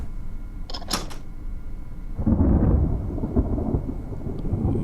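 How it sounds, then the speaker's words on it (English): A thunderclap in the Resident Evil REmake breaks out as a loud, rolling rumble over steady rain, after a few sharp clicks at the start. "Ooh, creepy thunderclap on cue there."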